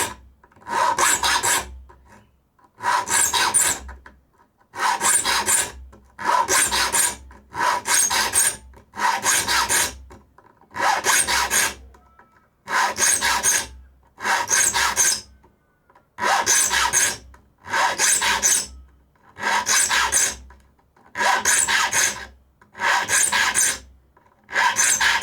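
A file rasps across the teeth of a new handsaw in steady paired strokes, each loud burst of grinding metal separated by brief pauses, repeating evenly throughout with no voices.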